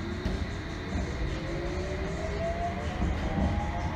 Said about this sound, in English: This is a District Line train to Dagenham East.